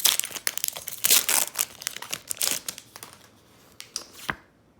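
Foil wrapper of a Rebel Clash Pokémon trading card booster pack crinkles and tears open, loud, close and continuous bursts of crackling plastic with no talking.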